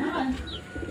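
Pigeons coo softly at close range among newly unboxed racing pigeons, with a brief chirp and a faint low voice underneath.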